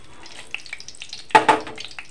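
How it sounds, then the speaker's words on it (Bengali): Dried red chillies and bay leaves hit hot oil in a home kitchen pan and are stirred, giving two quick, loud sizzling bursts close by over a quiet background of faint kitchen clatter. "শুকনো লঙ্কা দিয়ে দিলাম, তেজপাতা দিয়ে নাড়াচাড়া করে নেব।"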